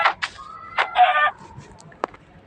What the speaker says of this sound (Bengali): এত মুরগি